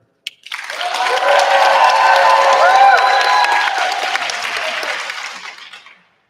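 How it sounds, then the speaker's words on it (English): A conference audience at GaETC 2024 breaks into sustained applause and cheering, rising quickly, holding steady for several seconds, then fading, with a few voices mixed in. "give applause."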